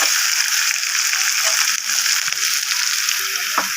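Chopped onions sizzle in hot oil in a wok, a steady, close, fairly loud frying hiss that runs throughout with a few faint clinks.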